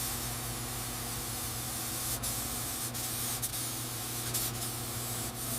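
A spray gun hisses continuously and close up, laying a cream base coat of paint onto a 1913 Buick Model 10 Roadster, with a steady airy rush and a few brief dips.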